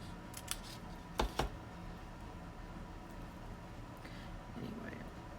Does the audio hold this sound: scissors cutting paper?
yes